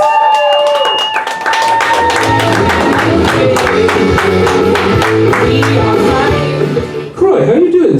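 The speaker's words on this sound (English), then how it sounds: "I need a round of applause for our game master" Audience applauding a game master at a live tabletop RPG show, with steady clapping layered over loud music that runs throughout.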